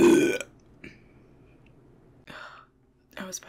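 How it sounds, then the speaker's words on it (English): A loud, close burp opens the clip, followed by a few quieter throaty sounds and a brief whisper near the end. "I was fighting through burp that whole time."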